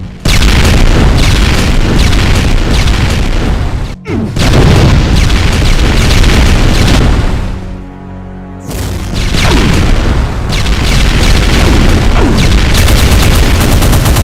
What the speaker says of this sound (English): Enraged Plasmatic Cannonball shots, which go right through you, and just have a short blast radius